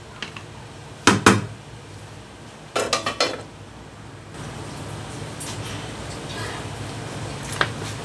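Hot fried lachha semai vermicelli being stirred with salt in a pan, heard as two short bursts of close metallic scraping and clinking over a low kitchen hum.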